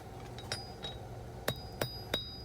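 Hammer blows forging a knife blade on a new anvil that is not fastened down, ringing out as a few sharp metallic strikes spaced about a third of a second apart, each with a bright ringing tone, plus fainter lighter taps earlier.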